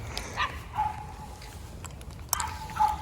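A dog barks in a few sharp bursts at moderate distance, spaced across a few seconds over quiet outdoor background near a canal basin.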